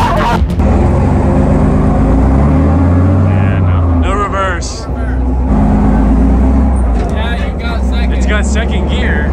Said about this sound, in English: We're gonna rev it a little bit, and if it moves in fourth gear, that means that we don't need a whole new gearbox.